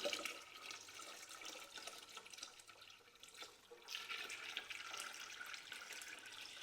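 Tap water runs steadily to top up a pot of sealed pickled cucumber jars until it sits an inch above them, a continuous close splashing and gurgling with no talk.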